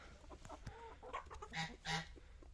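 Amrox, partridge Leghorn and American bantam chickens cluck in a farmyard, several short calls close by, with two louder drawn-out clucks near the end over low background rustling.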